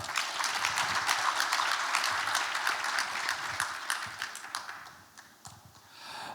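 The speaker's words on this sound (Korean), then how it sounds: "두 명의 연사들에게 다시 한번 큰 격려의 박수 부탁드립니다" An audience at a panel discussion applauds two speakers with sustained, dense clapping that carries on for several seconds before thinning out and fading near the end.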